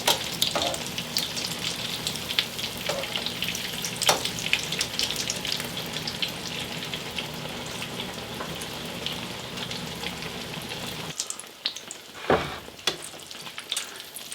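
Eggplant slices fry in a hot pan for an eggplant parmesan casserole, a steady close sizzle and crackle with occasional stirring scrapes, cutting off near the end to quieter clinks.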